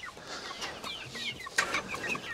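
Backyard chickens cluck and chatter softly at close range, a scattering of short, uneven calls from several birds over a quiet background.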